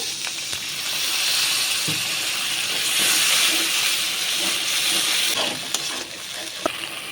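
A little water poured onto cashew paste in a hot pan, giving a loud, continuous steam hiss that swells and fades over several seconds with a few faint clicks.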